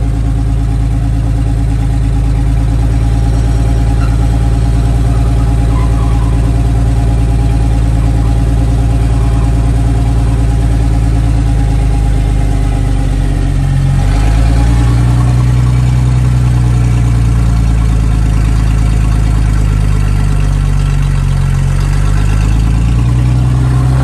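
A 1948 Dodge farm truck engine, run for the first time in over 25 years, idles loud and close with a steady low rumble throughout, and its pitch and rhythm shift slightly partway through.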